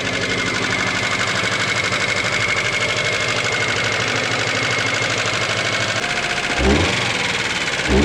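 A free Subaru four-cylinder engine with suspect spark plug wires idling rough and misfiring, a loud, close, uneven chugging drone with a stumbling pulse, and a brief thump near the end.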